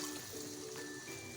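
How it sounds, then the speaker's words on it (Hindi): Water is poured into a pan of cooking tomatoes and meat for chukandar gosht, a steady close trickle and hiss lasting the whole brief moment with no talk. "तो यहाँ पे हम पानी ऐड करेंगे।"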